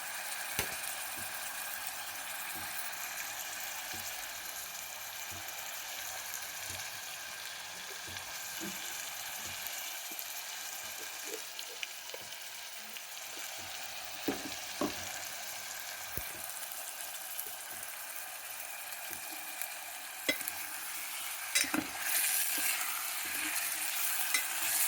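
Food sizzling softly in a pan while cooking mutton with aloo methi, a steady faint frying hiss broken by scattered stirring scrapes and clinks.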